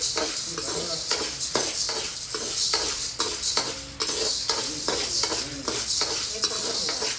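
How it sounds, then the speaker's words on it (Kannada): Sorghum grains being dry-roasted in a pan give a continuous rattling hiss, with regular scraping strokes of a spatula or ladle stirring them close by and no talk. "ನೆಕ್ಸ್ಟು ನಾನಿವಾಗ ಜೋಳನ ಹೊಡಿತಾ ಇದ್ದೀನಿ"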